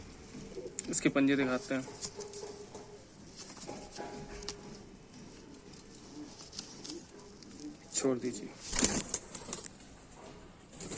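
A pure Sambhal pigeon flaps its wings in two short bursts, with soft coos and pattering between them, while someone talks close by throughout.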